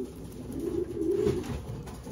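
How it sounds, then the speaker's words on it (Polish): A big young racing pigeon from Germany coos softly, a low steady rolling call held for about two seconds over room noise in a loft during vaccination, with no talk. "Duży, piękny, potężny gołąb."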